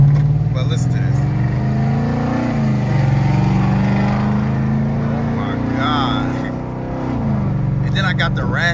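A Chrysler 300C fitted with long tube headers rumbles loud and close, its deep engine drone swelling and falling as the throttle is blipped, with raspy higher tones rising near the end.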